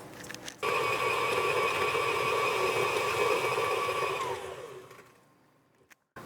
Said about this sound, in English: And then we want to beat that for about 10 seconds until it's light again.